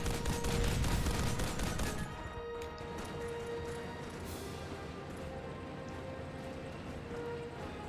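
Gunfire from the World War II video game Big Red One: a dense burst of rapid shots for about two seconds, then quieter scattered game ambience with faint tones.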